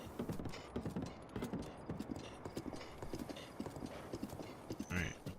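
A horse's hooves clip-clop in a steady, close rhythm in The Legend of Zelda: Breath of the Wild, with a short whinny near the end.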